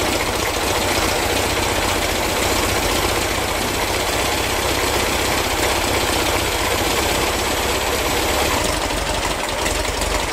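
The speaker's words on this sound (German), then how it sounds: "Jetzt läuft der Motor total unrund." An oldtimer classic car engine idles roughly and unevenly during carburetor adjustment, drawing minimal fuel. The loud, close, continuous mechanical rumble has a knocking, uneven pulse, with no talking.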